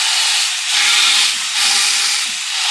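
Lamb ribs sear fat side down in a hot pan with no added oil, giving a loud, steady hiss and sizzle that swells and eases in gentle waves. The sound is close, with no talking.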